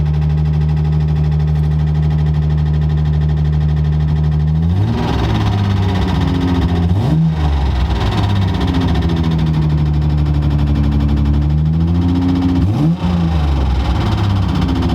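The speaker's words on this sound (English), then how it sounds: "The car does have a really bad exhaust leak, so I'm pretty sure that's what all that like knocking noise is" A Datsun 280Z with a bad exhaust leak idles loudly up close, then revs several times, its uneven engine note carrying a rough knocking, puffing quality between the throttle blips.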